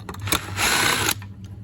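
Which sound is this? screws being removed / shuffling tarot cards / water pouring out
screws being removed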